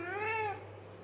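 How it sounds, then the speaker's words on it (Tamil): A house cat gives one clear, drawn-out meow up close, loud at first and then trailing off into quiet room noise. "நீ பூனை தானே, பூனை தானே நீ?"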